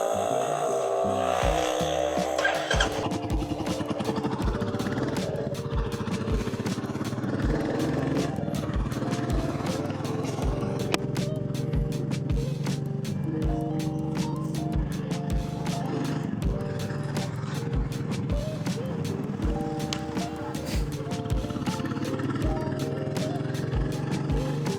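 A Royal Enfield Bullet 350 motorcycle rides steadily in the early morning, its engine thumping in a continuous loud drone with repeated clatters and bumps over the road.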